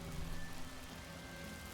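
Steady rain in Fallout 76 pours over a player-built camp with glass panes overhead, a continuous broadband hiss holding at a moderate level without pause.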